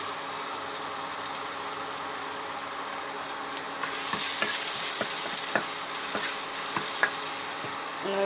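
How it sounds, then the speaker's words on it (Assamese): Onions dropped into oil left over from frying fish, a steady sizzle that swells louder midway, with scattered crackles and spatula scrapes close by. "এতিয়া মাছ ফ্ৰাই কৰি ৰৈ যোৱা তেলখিনিতে আমি এতিয়া পিঁয়াজখিনি দি দিম"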